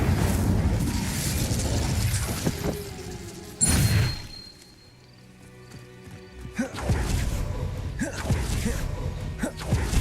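Hogwarts Legacy combat with the Incendio fire spell: a sudden loud blast near four seconds amid rumbling, crackling battle noise, a brief quieter lull, then dense clattering action resumes.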